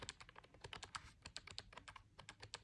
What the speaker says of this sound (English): It does have, again, these really shallow keys, so let's hear them.